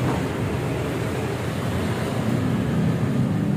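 A vehicle runs at a workshop after an exhaust replacement, giving a close, continuous deep rumble that holds steady throughout.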